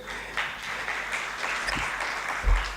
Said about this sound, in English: I think we can all clap for ourselves again because we have done very well.